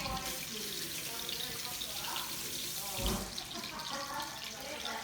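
Quick wash under a running kitchen tap while cooking tandoori lamb burgers: a continuous, even rush of water splashing into a sink, close and steady for the whole stretch, with a brief louder splash partway through.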